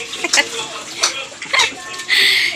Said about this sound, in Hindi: कूलर में पानी भर रही है।